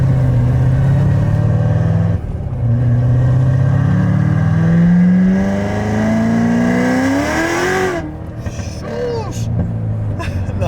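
A cammed Corvette C7 Z06 V8 roars loudly as it accelerates through a gear on the road, pitch climbing steadily before a shift near the end, with talk inside the car.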